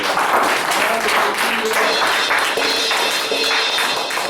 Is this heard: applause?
yes